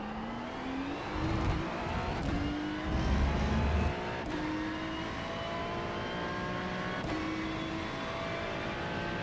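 A Ferrari 296 GT3 race car in iRacing at Hockenheimring pulls out of a low-gear corner, its engine note rising steadily through the revs, loud and close, with sharp clicks of gear changes.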